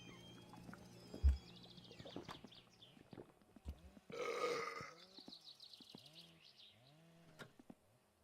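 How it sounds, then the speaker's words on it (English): A man burps loudly and at length, one deep drawn-out belch near the start followed by a longer gurgling burp in the middle, close and otherwise quiet. "You think I was playing Grand Theft Auto 1 or 2 the way I'm burping?"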